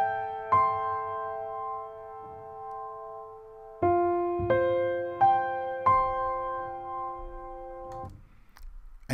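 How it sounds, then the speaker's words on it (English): Soft piano notes ring out in sparse, sustained chords with long decays, separated by pauses, with faint low thumps and shuffling of the pedal mechanism underneath. "you can actually hear the sustain pedals going up and down"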